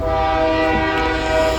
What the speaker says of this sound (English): Here's our very next train with a